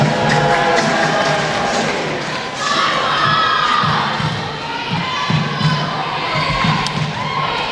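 A crowd at a girls' national secondary school basketball final in New Zealand cheers and shouts loudly, with children's and girls' yells rising and falling in continuous waves and occasional thuds beneath.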